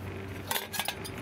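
Emberlit stainless steel wood-burning bushcraft stove panels clink together during assembly, a few quick, close metallic taps in a short burst.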